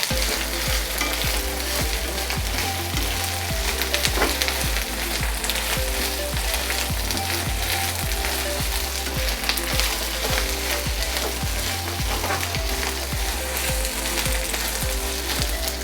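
Ginger and garlic sautéing in a pan for Chettinad mutton pepper fry give a loud, continuous sizzle, with steady rhythmic scraping and stirring strokes throughout and no talking.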